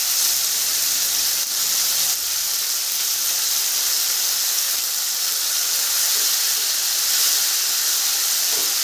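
Tomato paste and ginger paste sizzling in hot oil, a loud, steady, close hiss with crackling texture that holds for several seconds without a break, no talking.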